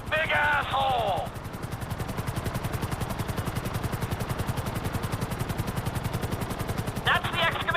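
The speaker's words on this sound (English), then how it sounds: "I need you to hold the chopper above it while I take a look" A hovering helicopter in the video game GTA V, its rotor thudding in a fast, steady rhythm close by, with voices speaking over it at the start and end.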